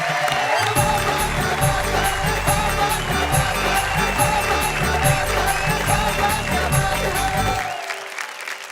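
An audience at a Hindi kavi sammelan poetry recital applauds with loud, dense clapping for about seven and a half seconds before it cuts off abruptly.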